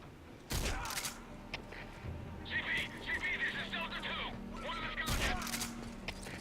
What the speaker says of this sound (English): we switched to the shotgun, which has a pretty respectable range